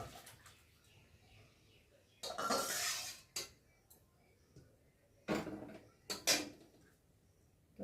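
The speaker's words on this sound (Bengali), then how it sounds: "গ্যাসটা বন্ধ করে দেবো, দিয়ে এবার কড়া থেকে ঢেলে দেবো।" Cooked fish curry being poured out of a wok on a switched-off gas stove, with a few loud bursts of metallic scraping and clatter against a quiet room background.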